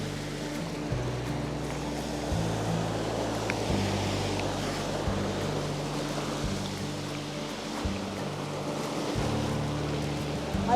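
Ocean waves at Moshup Beach wash in as a steady broadband surf roar, with wind noise and low rumbling thumps across the whole stretch and no talking.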